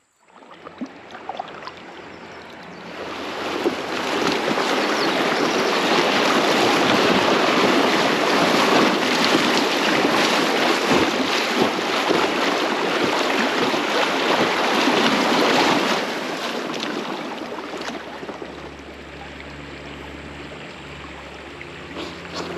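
An inflatable kayak is paddled on a river in Arizona wine country, a steady broad wash of moving water and wind that swells and then eases, loud and close, with no talking.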